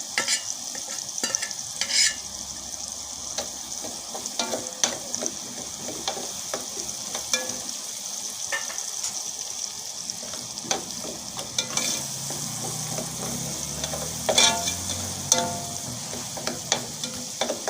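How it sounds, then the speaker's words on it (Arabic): Garlic cloves sautéing in a hot pan while a spoon stirs them, a steady close sizzle broken by repeated scraping and clacks of utensil on metal, no voices. "بعد كده شوحتها، احط عليها فصين الثوم"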